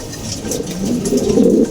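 Racing pigeons cooing close by in a loft, a steady run of low, throaty coos that builds slightly in loudness, with no voices.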